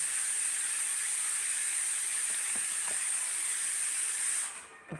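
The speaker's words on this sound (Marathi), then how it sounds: "आता कुकरचा आवाज जास्त दिसतो मला" A pressure cooker lets out a loud, steady, high-pitched jet of steam that hisses continuously, then cuts off abruptly near the end.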